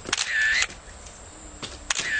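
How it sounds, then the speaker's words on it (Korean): Camera shutter clicks as a radio-drama sound effect for foreigners photographing around Panmunjom, with two bright mechanical bursts separated by a quiet pause, close and clear with no talk. "이것저것 덮어놓고 카메라의 셔터를 누르기도 했다."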